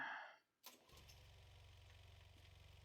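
A chainsaw engine in the video game Mon Bazou catches after a sharp pull and settles into a steady, rapid low putter that runs on evenly.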